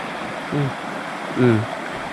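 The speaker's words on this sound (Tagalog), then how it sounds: "Yung tubig dito sa sapa. Hindi pa bumaba. Sobrang lakas pa oh." A swollen creek rushes strongly after a flood, a steady close wash of flowing water with two short bursts of a voice over it.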